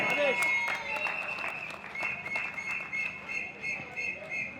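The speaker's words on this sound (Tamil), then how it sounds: "உற்சாகமான கைத்தட்டல் கொடுக்கலாமே." An expo crowd claps at a business exhibition stage show, with scattered uneven clapping mixed with a sustained high whistle tone and background chatter, moderately loud.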